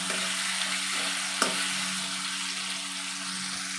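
Tomatoes being stirred and softened in a kadai, frying with a steady close sizzle and a single sharp scrape of the spatula partway through, no voices.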